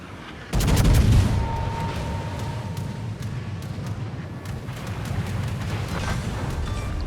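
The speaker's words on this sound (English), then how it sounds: "We went ahead and opened up the guns." The main guns of the battleship Missouri fire in a naval video game, with a heavy boom followed by a long rumbling roar that stays loud and continuous throughout.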